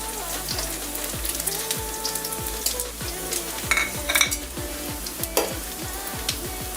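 Cumin seeds sizzle and crackle in hot oil, a dense, steady frying hiss with rapid popping and occasional stirring clinks, close and continuous with no talking.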